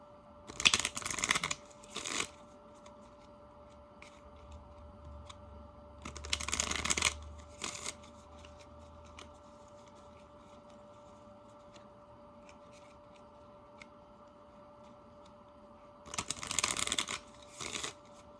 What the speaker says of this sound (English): I love shuffling, but I really want the cards to mix in and be infused.